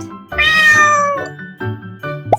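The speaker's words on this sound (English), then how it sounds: "C is for cat." A cat meows once in a long, loud, drawn-out wail close by, then makes a few shorter, softer mewing sounds with brief pauses between them.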